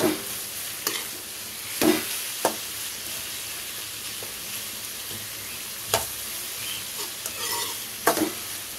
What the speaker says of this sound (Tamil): ஸோ வெங்காயம் வதங்கட்டும்.